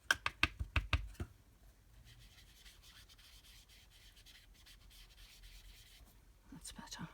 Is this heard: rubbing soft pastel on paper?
yes